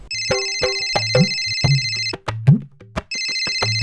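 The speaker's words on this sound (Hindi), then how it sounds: "आई फोन आथे हो दे। देख उठा।" A mobile phone rings with an incoming call, a loud electronic ringtone melody of repeating tones and beeps playing close by, with no talk over it.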